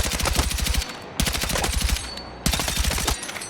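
Rapid automatic fire from the DRS rifle in Battlefield 6 comes in three loud, close bursts of fast, evenly spaced shots, each separated by a brief pause.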